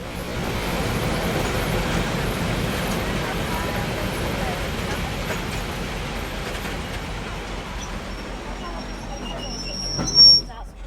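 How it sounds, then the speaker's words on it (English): Kaimai Express passenger train slowing to a stop at a station in New Zealand, a broad steady rumble of wheels and engine that eases off, ending with a brief high brake squeal. "As our train came to a stop at Whatakao"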